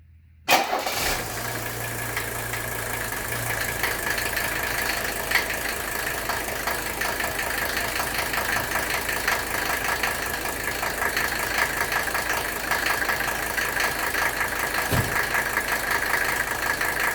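A 1984 Mercedes-Benz 300SD with an OM617 diesel engine cold-starts after glow plugs, a brief crank catching quickly, then settling into a loud, steady, slightly knocking diesel idle that runs continuously without any talking.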